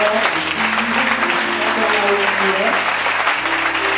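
A congregation at a church youth conference applauding and cheering loudly, dense continuous clapping with voices shouting throughout over sustained music tones.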